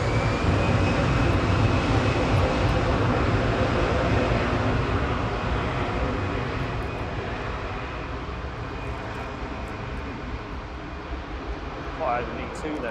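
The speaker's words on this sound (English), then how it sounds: "It's the KLM A321" A KLM Airbus A321 jet at Manchester Airport, its steady engine roar loud at first and slowly fading as it moves away, with people chatting over it.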